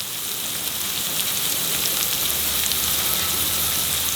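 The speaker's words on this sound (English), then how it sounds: "Roast the onions till it is translucent." Onions frying in a pan until translucent, heard as a steady, even sizzle close by that runs throughout with no pauses and no voices.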